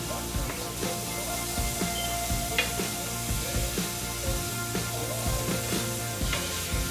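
Onions and celery sautéing in a pot for caldo de res, a steady close sizzle with intermittent scraping and stirring knocks throughout.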